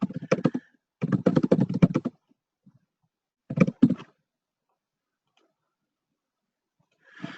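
Close computer keyboard typing as a comment is entered, rapid clattering keystrokes in short bursts separated by silent gaps, with a few faint taps at the end.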